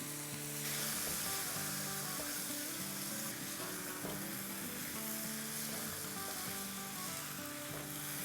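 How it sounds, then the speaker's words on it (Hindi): Soaked rice and lentils sizzle steadily in hot oil with spices for masaledar Gujarati khichdi, a dense continuous frying hiss with occasional stirring scrapes, close and even throughout. "मसाले के साथ भूनते हैं"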